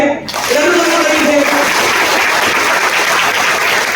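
A large audience claps in a dense, loud, continuous burst of applause that swells after a brief quiet start and holds steady, with a voice faintly underneath at the opening.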